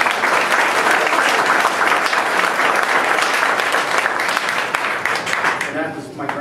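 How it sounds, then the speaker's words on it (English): An audience at a Juneteenth exhibit talk applauds for a man who helped make a graduate thesis video, with sustained, full clapping and some crowd noise that tapers off near the end. "I would like everyone to give him a round of applause."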